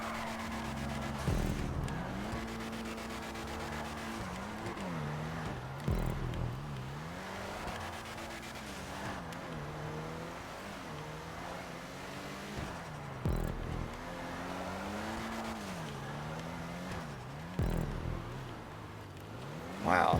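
Ubermacht Zion Classic car in GTA 5 Online, engine droning steadily with pitch rising and falling as it revs through drifts, punctuated by brief louder bursts of tire skid and impact, with no talking.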